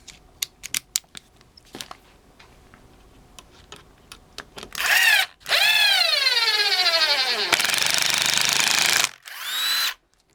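A Bosch impact driver fitted with an Impact Tough bit hammers loudly in two long bursts with a short pause, its pitch sweeping as the screw drives in, after a run of quieter clicks and a final short burst.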